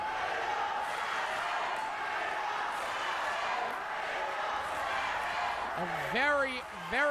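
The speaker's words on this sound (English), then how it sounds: "No, we got a split chant." Wrestling crowd at a Riot City Wrestling event chanting in a split, back-and-forth pattern, a distant, steady arena roar with a nearby voice talking over it near the end.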